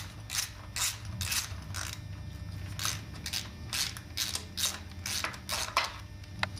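A ratchet wrench clicks in quick repeated bursts while a 14mm bolt is loosened on the bell housing of a Nissan 240sx, close and alone, with brief pauses between strokes.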